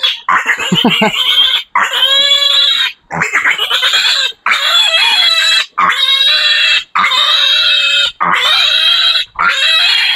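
A mother pig, a sow on a piglet farm, grunts and squeals in long loud bursts split by brief pauses, close up.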